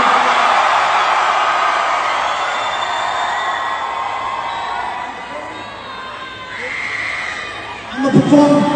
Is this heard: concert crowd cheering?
yes